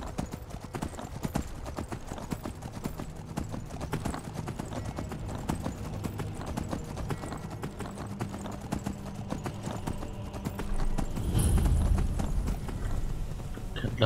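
Horse hooves clip-clop steadily in the Skyrim video game, a continuous rhythmic stream of hoofbeats over ambient game sound, growing slightly louder near the end.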